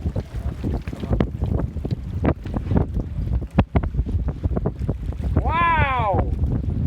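Strong wind buffets a small sailboat sailed single-handed by a 10-year-old in high winds, a steady rumbling roar with gusts and water noise, a voice briefly calling out over it.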